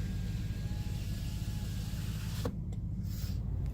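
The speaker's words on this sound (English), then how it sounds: "And then the back windows, they roll down all the way" A truck's rear power windows roll down all the way, a steady motor hum inside the cab that runs for a couple of seconds and then stops abruptly, followed by quieter rumble.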